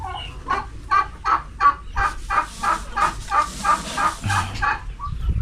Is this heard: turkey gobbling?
yes